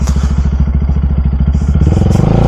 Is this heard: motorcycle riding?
yes